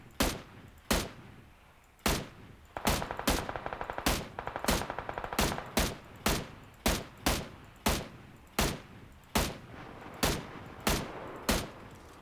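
Gunfire in the online shooter PUBG: loud, sharp in-game shots rising at a steady pace over twelve seconds, with one dense automatic burst in the middle and no voices.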